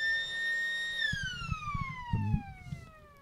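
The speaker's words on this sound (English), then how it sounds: "Timekeeper Bevan letting the siren rip." Timekeeper's siren sounding at a country Australian football match between Kapunda and Angaston, a long loud wailing tone that holds steady and then slowly falls in pitch, with crowd noise and thumps beneath it.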